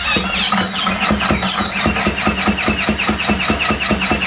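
A Chinese F-80 79cc petrol engine kit for a bicycle catching as it starts, a rapid even chugging firing rhythm with a high squeal on top, loud and close, no speech.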